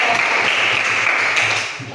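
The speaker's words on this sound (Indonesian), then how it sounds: "Berikan tepuk tangan untuk teman-teman kelompok 2" Dense applause from a school class, steady clapping for a student group that stays loud and close before tapering off slightly at the end.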